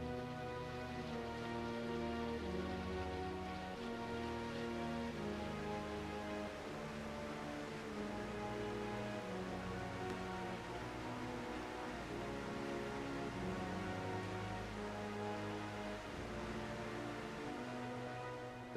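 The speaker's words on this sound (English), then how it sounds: "The towering clouds of cold fronts bring heavy rain." Heavy rain falling steadily, a dense continuous hiss and patter that stays even and unbroken throughout with no voices.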